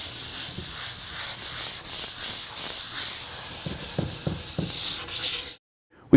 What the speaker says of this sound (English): by just going over the surface with the sandpaper, we're going to be abrading the surface